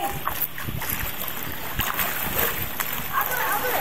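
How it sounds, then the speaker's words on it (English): Pool water splashes and sloshes as kids push waves back and forth, a busy run of small uneven splashes near the microphone, with children's voices talking over it. "Go like this to make a wave. Like a big wave."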